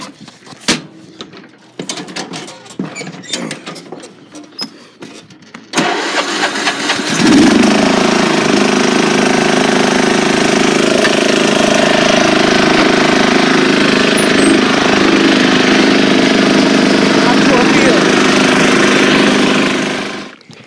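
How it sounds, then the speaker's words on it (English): A lawn mower engine in tall grass rumbles steadily for about thirteen seconds after clattering, uneven mechanical noises at the start, running loud and close before cutting off at the end. "sometimes the mower dies because the grass is so tall"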